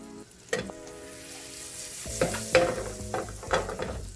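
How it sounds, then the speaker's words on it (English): A tablespoon of butter melts in a frying pan for pork sisig, sizzling softly with a few clinks of a utensil against the pan and a faint ringing tone underneath. "Put in some butter into the pan."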